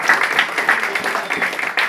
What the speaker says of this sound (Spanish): y para él pido un aplauso.